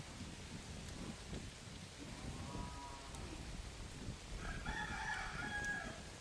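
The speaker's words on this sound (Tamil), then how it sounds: "பாருங்க கோழி கூவுது." A rooster crows once, moderately distant, over a soft steady patter of rain and low background rumble.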